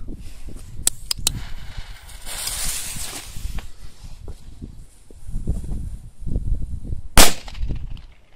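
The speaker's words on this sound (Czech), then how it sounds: "Takže dále je tady petarda Bomb." Outdoor rustling and a few light clicks lead up to a single sharp, loud crack from a Bomb firecracker near the end.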